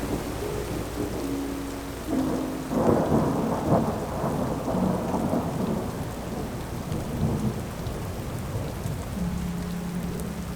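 Thunderstorm with heavy rain pattering steadily throughout and a loud rolling thunder rumble building in the middle and fading out over about ten seconds, with no talking.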